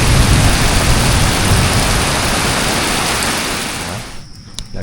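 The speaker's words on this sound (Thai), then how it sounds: "ฝนมันก็เริ่มมาเลย" Rain pours steadily in a rural Thai countryside during the rainy season, a loud, dense hiss that holds for several seconds and then eases off toward the end.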